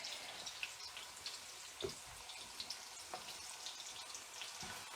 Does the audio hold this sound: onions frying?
yes